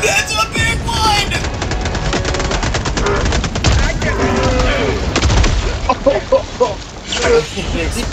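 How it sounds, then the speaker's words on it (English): Gatling gun fire in Helldivers 2 during a fight with a Bile Titan, dense rapid bursts with explosions and loud chaotic combat, players shouting over it. "Gatling gun going crazy"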